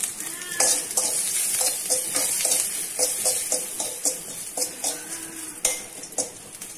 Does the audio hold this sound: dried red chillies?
yes